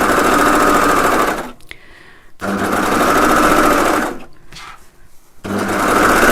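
An overlocker serger sews along the edge of blue cushion fabric, a loud close mechanical whir running in three bursts separated by short pauses.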